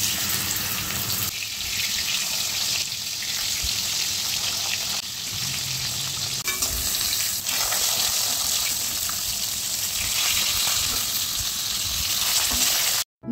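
Fish fry in hot oil in a pan, a loud, steady sizzle that runs unbroken close up before stopping abruptly.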